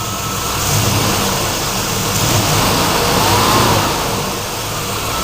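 Chevy small block V8 with a freshly replaced timing chain, revving and settling back steadily at close range, a continuous mid-pitched engine drone swelling and easing over a few seconds with no talk.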